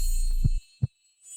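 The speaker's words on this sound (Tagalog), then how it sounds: "bilis ng tibok ng puso mo" A fast heartbeat sound effect in a murder mystery game: two low, soft thumps in quick succession over a faint hum, then quiet.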